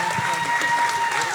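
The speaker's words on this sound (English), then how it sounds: "Give them one more round of applause" A crowd applauds the finalists of a youth challenge at a foundation livestream event, a steady dense wash of clapping filling the room, with a voice faintly present beneath it.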